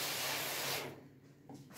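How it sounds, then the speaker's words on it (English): A spray bottle mists water over container lids to raise humidity for sowing cacao seeds, giving one steady close hiss that cuts off, followed by a brief second puff. "And we'll also spray the lids"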